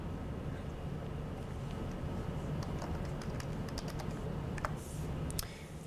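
Quick bursts of key taps on a computer keyboard as a command is entered at a Windows prompt, a run of light clicks over a low steady background hum, no voices.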